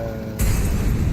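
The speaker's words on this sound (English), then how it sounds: "Grenade out." A grenade bursts in a Counter-Strike match, a sudden loud boom cutting in over low ambient game noise and then rumbling on without fading.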